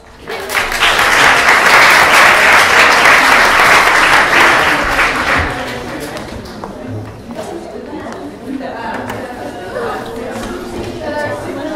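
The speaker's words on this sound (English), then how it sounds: "should we say a round of applause?" Loud audience applause at a Museomix pitch session swells quickly and holds for several seconds, then thins into crowd chatter and talking voices.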